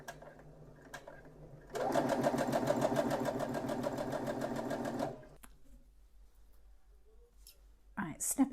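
A sewing machine runs a steady, even burst of stitching along a quarter-inch seam for a few seconds, then stops; quiet room tone follows and a brief voice comes in near the end.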